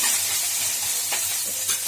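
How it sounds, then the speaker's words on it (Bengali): Ginger fries in hot oil with a loud, continuous sizzle while being stirred in the pan, the scrape of the stirring rising over the steady crackle. "দিয়ে এটা একটু নাড়িয়ে দেবো, আদাটা ভাজা ভাজা হয়ে যাবে।"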